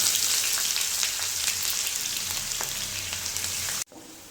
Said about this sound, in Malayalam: ഓയിൽ ചൂടായിട്ടുണ്ട് നമുക്ക് സവാള സ്ലൈസ് ഇട്ട് കൊടുക്കാം